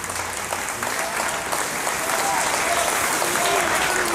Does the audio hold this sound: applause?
yes